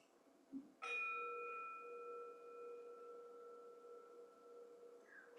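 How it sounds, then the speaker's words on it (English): A single ceremonial gong is struck once, a sharp onset followed by a sustained, slowly fading ring with clear steady overtones in a quiet room. "We ring the gong 3 times"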